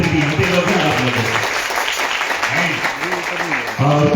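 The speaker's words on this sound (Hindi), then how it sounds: "एक बार ताली बजा सकते हैं जितने भी यहाँ पे लोग हैं आप लोग" An audience at a pastor's gathering in Delhi applauds, a broad wash of clapping running under a voice that talks over much of it, with the talk pausing briefly in the middle.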